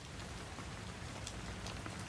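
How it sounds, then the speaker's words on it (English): Steady, dense patter of raindrops on windows in Resident Evil Requiem, an even hiss of rain with no breaks, heard alone. "Raindrops on the windows there."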